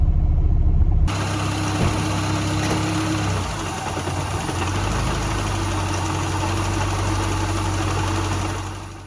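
A supercharged Toyota 22RE engine in a 4Runner idles in gear with a loud, steady low rumble and mechanical whine. It continues evenly before fading slightly at the end, with no talking.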